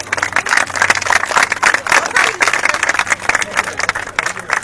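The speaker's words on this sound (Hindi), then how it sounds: "उनके लिए क्लैप कीजिए, ताली बजाइए" A crowd claps for a community theatre group at an Indira Camp, Defence Colony gathering. The clapping is loud, rapid and irregular, with dense overlapping hand claps sustained throughout and no pause.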